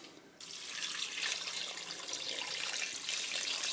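Hot water runs from a tap into a pot, starting abruptly after a brief quiet moment and then pouring in a steady, close, bright gush as the pot fills.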